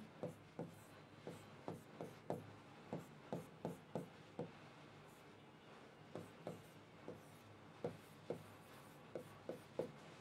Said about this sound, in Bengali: এইরকম করে আমি এখানে এক্স লিখি